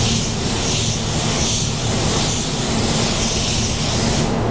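A spray gun lays a light coat of paint onto a car bumper cover, giving a loud, continuous close-up hiss that holds steady and then tapers off at the end.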